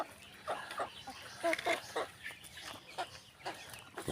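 Rhode Island Red chickens cluck in a series of short, soft calls close by, with people talking quietly in between.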